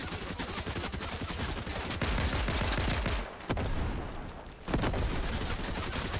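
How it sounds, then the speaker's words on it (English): Explosive rounds fired by an NPC in a battle royale video game come as dense, loud bursts of rapid gunfire and blasts that fill the clip, with a short lull before the barrage resumes. "His NPC is actually attacking me right now with those explosive rounds."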